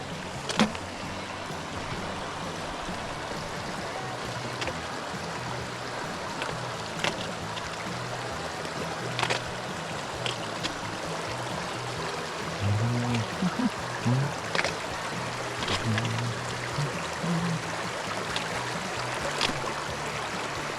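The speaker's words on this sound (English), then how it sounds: "This is the La Marche Creek." La Marche Creek flowing on a mountain trail, a constant broad rush of water close by, with occasional sharp knocks and low splashy gurgles from footsteps or stones over the steady flow.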